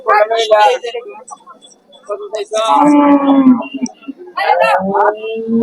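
Cattle at a busy livestock market before Qurbani, including young two-year Holstein Friesian bulls, give several loud, drawn-out moos close by, with short pauses between calls and people talking in the background.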